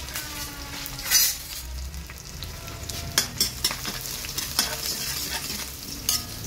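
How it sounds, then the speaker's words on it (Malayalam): Fennel seeds, curry leaves and garlic frying in oil, with a constant close sizzle and a series of sharp stirring scrapes and taps of a spoon on the pan, no voices. "ഇളക്കിക്കൊണ്ടേയിരിക്കാം."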